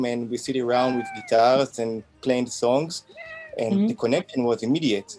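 A cat meows several times close by during an interview, the rising cries overlapping steady male conversational speech.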